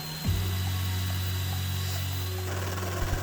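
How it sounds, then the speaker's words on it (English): A drill motor spins up with a low steady drone and grinds into mesquite wood, boring pilot holes, running continuously for a few seconds before easing off. "I'm drilling out the 3 pilot holes"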